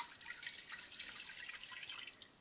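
About one and a half cups of warm water poured into a stock pot set on low heat for rendering tallow, a bright continuous splashing trickle, close and fairly loud, alone without talk.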